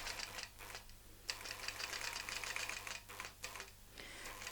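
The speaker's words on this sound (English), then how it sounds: "check that we're in line with our stitching on the edge of our template, and now we will sew up" A longarm quilting machine stitches across a tray, giving a faint, rapid mechanical clatter of needle strokes that pauses briefly a few times and resumes, steady and close.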